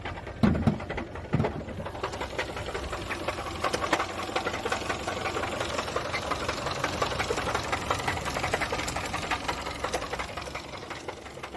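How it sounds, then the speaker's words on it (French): Newly bought car with an abnormal engine noise, idling in a service shop with a steady mechanical knocking-ticking rhythm running continuously, a couple of louder clunks near the start. "Cette voiture est arrivée avec son moteur, qui sonnait comme le jeu Jumanji."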